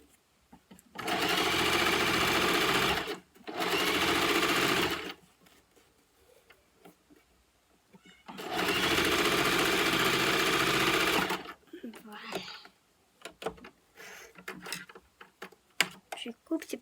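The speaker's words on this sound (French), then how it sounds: "Je vais encore coudre. Ok. On y go. Je tourne ma machine." A sewing machine stitches a fabric face mask in three steady, buzzing runs of a few seconds each, separated by pauses, followed by light clicks and handling noises from nearby.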